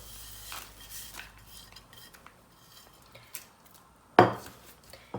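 Besan roti ingredients with chopped green chillies and dried fenugreek being mixed in a bowl, soft scraping with scattered clinks of a spoon and one sharper knock near the end.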